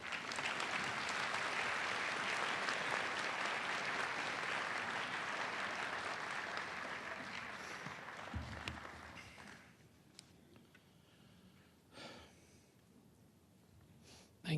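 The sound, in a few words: audience applause welcoming the speaker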